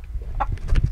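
A broody Whiting True Blue hen gives a few short, soft clucks near the microphone, low and close, over faint background rustle in a brooder coop setting.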